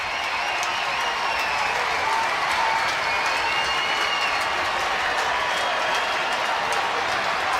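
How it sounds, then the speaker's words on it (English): Crowd noise at an ice hockey game as a player heads off the ice, a steady roar of cheering and applause filling the arena for the whole stretch, loud and unbroken, with no distinct voices standing out. "And he'll get a big cheer on his way to the penalty box."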